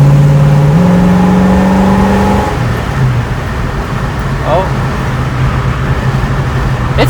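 A 1968 Ford Mustang coupe with a V8 engine accelerates, its droning engine note climbing in pitch and then settling into a steadier cruising hum, while a person talks over it.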